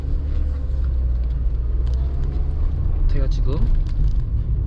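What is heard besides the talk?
Mercedes-Benz A-Class car running during test drive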